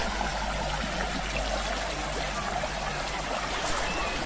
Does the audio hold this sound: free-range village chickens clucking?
no